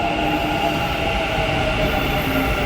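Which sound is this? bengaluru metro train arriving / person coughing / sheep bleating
bengaluru metro train arriving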